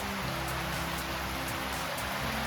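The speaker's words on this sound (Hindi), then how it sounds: "देखो कितनी मजेदार बारिश हो रही है।" Steady rain falls outdoors at a green, tree-filled property in Goa, a dense, even patter of drops hitting surfaces that stays close and constant throughout, with no one speaking.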